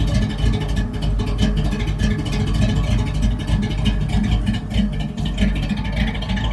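A V8-swapped Ford Ranger engine idles close by in a steady, even rumble with a faint whir, holding constant throughout without revving.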